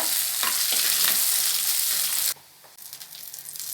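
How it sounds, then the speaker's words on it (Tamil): Loud, close sizzling of garlic, curry leaves and dried red chilies frying in hot oil with stirring, then a quick drop to a quieter crackle as the pan settles. "பூண்டு கருவேப்பிலை காஞ்ச மிளகாய் எல்லாமே செவந்து வந்துடுச்சு"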